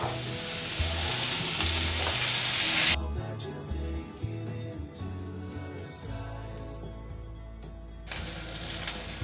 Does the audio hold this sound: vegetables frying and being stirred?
yes